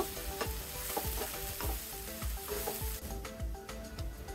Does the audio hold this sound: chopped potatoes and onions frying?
yes